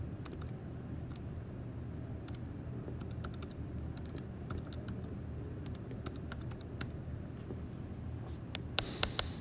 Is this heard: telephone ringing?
no